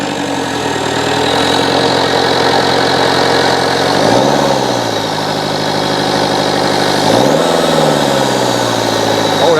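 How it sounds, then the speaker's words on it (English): Citroen Berlingo engine, treated with an EGR cleaner, runs loud and close just above idle, holding a steady drone with two brief rises in revs partway through. "Let's raise the rev slightly."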